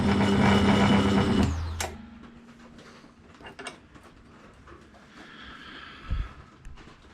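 A gun tap powered through an M5 hole in aluminium, heard as a loud close mechanical whir for about a second and a half that stops abruptly, followed by faint clicks and handling noises.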